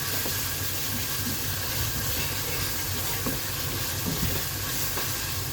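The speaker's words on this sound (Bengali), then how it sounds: "আনটিল এটা ব্রাউন করা পর্যন্ত ভাজা হবে পেঁয়াজটাকে" Chopped onion with chili flakes fries in hot oil in a home kitchen pan, giving a steady, dense sizzle with occasional small crackles and stirring scrapes, close and continuous, with no talking.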